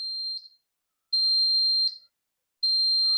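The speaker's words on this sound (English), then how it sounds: "When you first turn it on, you'll hear 3 beeps" Three sustained high-pitched electronic beeps from a Lumex light strip controller at power-on, one after another with short silent gaps, clear and close with nothing else around.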